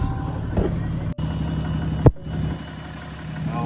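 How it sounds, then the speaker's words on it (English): A Ram 2500 Mega Cab pickup's engine settles into a steady idle, its low continuous rumble close and even, with a couple of brief clunks or bumps along the way. "Let's start this thing."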